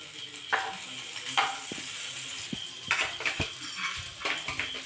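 Butter sizzling in a hot frying pan, a steady close crackle with a few sharper spatters and utensil knocks scattered through it.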